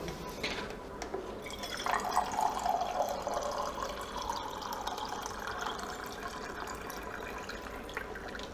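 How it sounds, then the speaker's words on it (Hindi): Drinking water trickles and pours into a glass in an indoor room, with a steady close stream of splashing and dripping that continues for several seconds and then fades into the background. "तब तक मैं पानी पी लेता हूँ"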